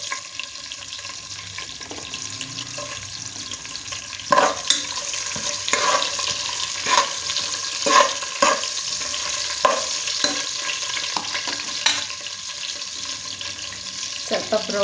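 Garlic drops into hot oil with cumin and fries with a close, crackling sizzle, marked by a string of regular spatula scrapes and taps against the pan roughly every second, with no voices.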